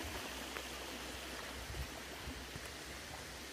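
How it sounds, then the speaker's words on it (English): A flowing mountain stream runs close beside a tent at a trail campsite, a steady broadband rush of water that stays fairly quiet and unbroken throughout, with no voices. "So that's how close we are to the stream."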